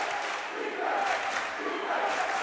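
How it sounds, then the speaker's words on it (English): A home crowd in a packed gym rumbles through the closing minutes of a high school basketball game, a steady dense roar of voices rising and falling slightly, loud and continuous. "You can hear the rumble of the home crowd."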